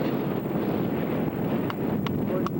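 Outdoor wind on a gusty day by a lagoon campsite rushes as a steady broadband roar buffeting the microphone, with a few faint higher sounds near the end.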